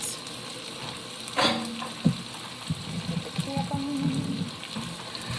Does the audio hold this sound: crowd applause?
no